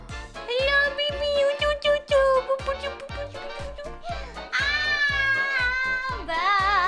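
A cat meowing in a rising, drawn-out call with a fairly near, clear tone, set over a steady rhythmic beat of background music.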